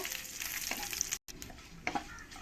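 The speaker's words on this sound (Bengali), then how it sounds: "তেলের মধ্যে দিয়ে দেবো তেজপাতা শুকনো লঙ্কা গোটা মশলা আর এক চামচ জিরে দিয়ে ভালো করে আমি এগুলো একটু ভেজে নেব" Bay leaf, dried red chili, whole spices and a spoon of cumin fry in hot oil, crackling and sizzling at a quiet level, with a few sharp spatula scrapes and a brief cut in the sound.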